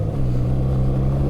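BMW R 12 G/S motorcycle with Enduro package, its engine running hard with a steady low-pitched drone and throb, loud and close, with no voices over it.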